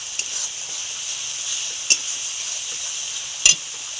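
Chilli powder and spices sizzling in hot oil for a taro and meat curry, a steady soft hiss with a couple of brief sharp spatters and stirring scrapes, no talking.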